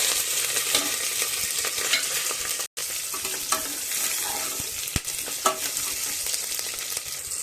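Garlic, curry leaves and green chili tempering in hot oil with popped mustard seeds, a continuous close sizzle with spatula stirring scrapes and a brief cut partway.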